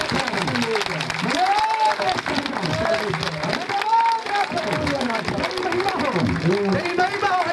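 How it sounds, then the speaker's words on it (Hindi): Church congregation clapping in praise during a worship service, a dense steady patter of many hands under a loud voice speaking and singing over it throughout. "आइए हम ताली के साथ उसकी तारीफ करें।"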